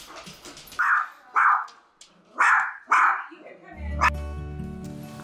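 Several dogs bark in loud bursts at an animal rescue, four strong barks in a row, then a brief yip as a low hum or engine drone rises underneath.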